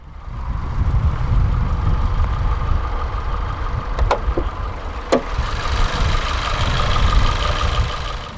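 A 2016 Volkswagen Golf 1.4 TSI turbocharged inline-four petrol engine idles steadily after start-up, a close, even mid-pitched hum with a faint whine and a couple of brief sharp clicks partway through.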